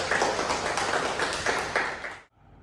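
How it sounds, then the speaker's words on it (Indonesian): A class in a patient-safety and occupational-safety course claps for a student, with quick, steady hand claps that keep going for about two seconds and then stop abruptly. "Tepuk tangan dulu untuk Tasya."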